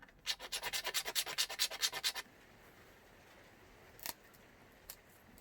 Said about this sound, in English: Then you're ready to sand it and drill a little hole in there.